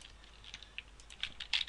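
Light keystrokes on a computer keyboard, a short run of soft, quick clicks that get a little louder toward the end, faint and close, with no voice.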